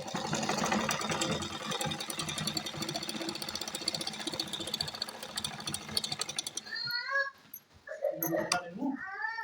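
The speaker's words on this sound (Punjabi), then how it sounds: "ਹੁਣ ਆਪਾਂ ਇੱਥੇ ਸਲਾਈ ਕਰਦੇ ਹਾਂ" A sewing machine stitches a salwar with a fast rattling whir that runs for several seconds, stops, and is followed by a voice speaking nearby with short mechanical clicks.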